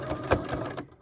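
A sewing machine stitches a rubber band into a fabric face mask in a brief, close burst of rapid ticking that cuts off into silence.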